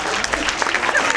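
A crowd claps at a Nebraska truck center event, a short burst of scattered applause with uneven individual claps across a little over a second.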